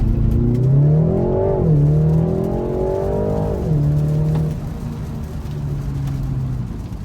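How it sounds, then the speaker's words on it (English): A 2019 BMW 330i xDrive launches hard in sport mode with traction control off, its engine revving loudly and climbing through rising shifts, close and steady, with no talk over it. "Sport mode, of course, traction off, and floor the gas."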